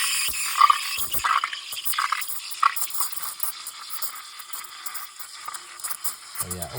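A Gaggia Classic Pro espresso machine steam wand hisses steadily into milk, with a papery, tearing froth sound and occasional gurgles and bubbling spurts.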